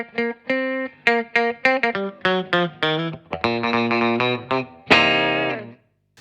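Funk electric guitar with a little distortion grit, playing choppy, percussive chords in short rhythmic bursts and ending on a sustained ringing chord, close and loud with no talking.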